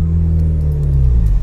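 A car engine revs up during a hill start, a loud low rumble that rises in pitch as it accelerates, close by with no voices.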